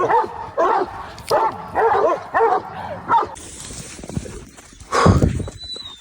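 A dog barks repeatedly in a quick rhythmic series of sharp barks nearby, then goes quieter, followed by scuffling noises and a final louder burst.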